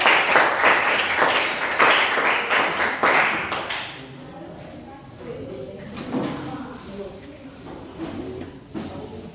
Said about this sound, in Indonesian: semua tepuk tangan untuk kelompok 1